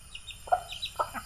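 A borrowed rooster clucks softly a few times in quick, uneven bursts, fairly faint against a quiet background hiss.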